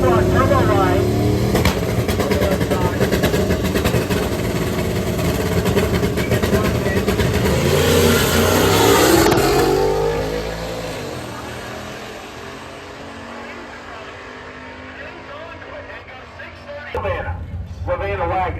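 A 1967 Chevy Camaro with a big-block turbo engine and a Barracuda launch at a Brainerd drag strip, their engines roaring loud and sustained before fading, while an announcer talks over them.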